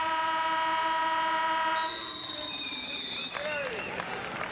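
Referee's whistle during a 1989 IHSA girls Class AA championship basketball game between Chicago Marshall and New Trier, a sustained shrill tone over steady crowd and arena noise, followed by more crowd sound.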